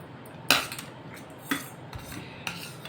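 A metal spoon clinks against a plate while kadhi rice is eaten: three sharp, separate taps about a second apart, with faint scraping between them and no talking.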